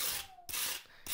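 A rag or pad rubs back and forth across a forged steel plate coated in gummy oil and rust, a raspy scrubbing in short close strokes.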